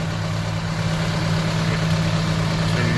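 A John Deere 6105R tractor with an inverted blower idles close by, a loud steady low diesel rumble with a constant hum and no talk over it.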